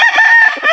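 A rooster crows once, loud and close, in a short, raspy, strained call.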